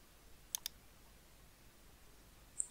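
Two quick, faint mouse clicks close together, selecting an option in a WordPress cPanel, followed by a single tiny click a moment later in a quiet room.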